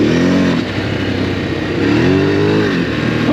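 Ducati Desert X motorcycle with a full Termignoni exhaust system accelerating, its engine note rising, dipping, then climbing again as it revs, loud and close from on board.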